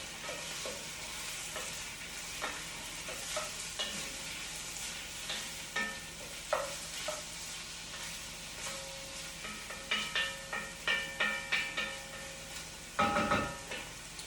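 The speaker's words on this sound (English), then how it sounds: "Let me stir my vegetables." Vegetables fry in a pot with a steady low sizzle, punctuated by repeated spoon clanks and scraping strokes that cluster more densely toward the end, no talking.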